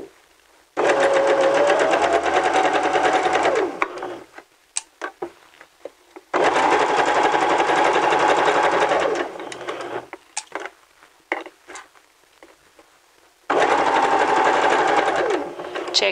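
A sewing machine stitches fabric backed with interfacing, pivoting and continuing around a curved edge, in three long loud runs of close motor whirr separated by pauses with small handling clicks.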